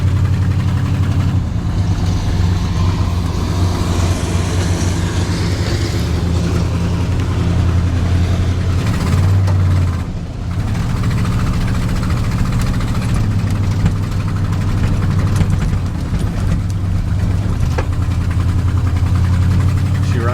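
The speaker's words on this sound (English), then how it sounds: "But that exhaust leak is super annoying." A big block Squarebody truck engine running with an exhaust leak, a steady low rumbling drone close by that holds evenly throughout, with no talk over it.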